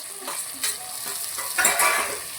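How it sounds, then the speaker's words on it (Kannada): Ginger, garlic and tomato sizzling in a pan for a bitter gourd gojju, with close scraping stirs of a spoon through the frying mix over a steady sizzle. "ಅದೆಲ್ಲ ಒಟ್ಟಿಗೆ ಮಿಕ್ಸ್ ಮಾಡ್ಕೊಳ್ಳೋಣ"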